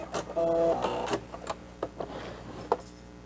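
Sewing machine stitching and back-stitching a fabric mask, a short steady mechanical whir followed by scattered clicks and taps of the machine, close and fairly loud.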